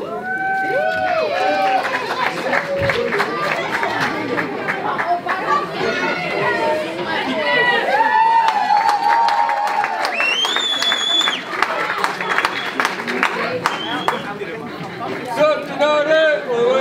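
A crowd claps for players called forward at an amateur football club celebration, the applause running under a loud announcer's voice and lively chatter throughout.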